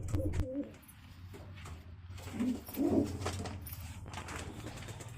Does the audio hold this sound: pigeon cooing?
yes